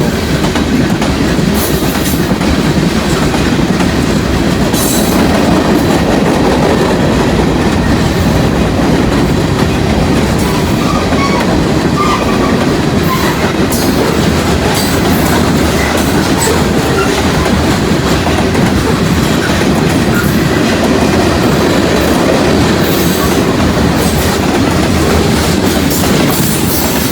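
A train rumbles past continuously and loudly, its wheels clattering rhythmically over the rails with occasional squeals, nothing else audible.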